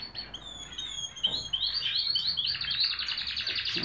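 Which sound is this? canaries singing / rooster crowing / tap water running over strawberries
canaries singing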